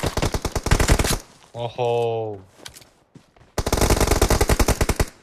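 Rapid automatic gunfire from the PUBG Mobile battle game rattles in fast, close bursts, breaking off for a moment while a voice exclaims, then resuming in another long, loud volley.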